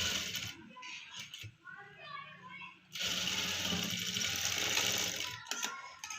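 Sewing machine stitching a dress collar for a co-ord set, with steady running bursts of stitching, a long continuous run in the middle, and quiet talk in between.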